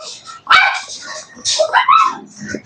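Small Shih Tzu dogs yap in several sharp, high bursts at close range, with quiet gaps between the barks.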